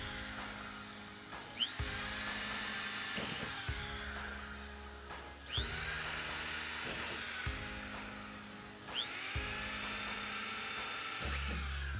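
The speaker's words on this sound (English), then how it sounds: "drill a small hole in the wall" An electric drill with a 3/32 inch bit boring small holes through a van's wall for a window installation, a steady high whine running throughout with several brief surges as the bit bites, close and loud.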